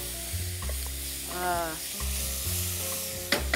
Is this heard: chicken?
no